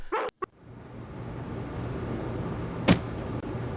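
Two quick, sharp dog barks from a dog in the video game Harvester right at the start, then a steady low electronic hum with a single sharp click near the end.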